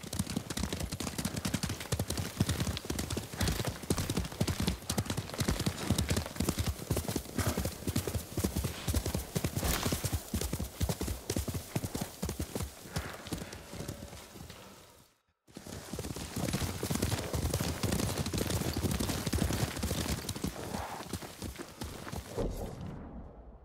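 Galloping horse hooves in Ghost of Tsushima, a rapid steady clip-clop rhythm up close and loud, briefly cutting out before resuming at the same pace.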